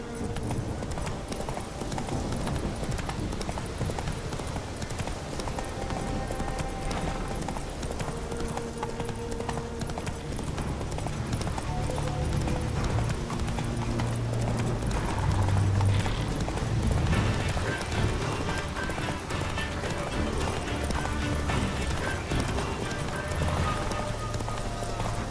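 Roach the horse gallops in The Witcher 3, hooves drumming in a fast continuous rhythm up close for the whole stretch, layered with game music and an occasional whinny.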